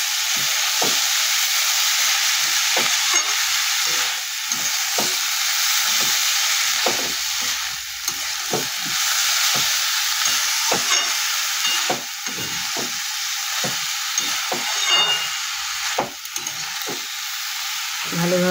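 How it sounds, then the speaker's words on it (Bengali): Banana flower fries with spice masala for a village-style mocha ghonto with chickpeas, a bright continuous sizzle under a long run of regular spatula strokes scraping the pan, close and loud, no talking. "ভালো করে নাড়তে হবে, মশলাটা সব ভালোভাবে মেশাতে হবে"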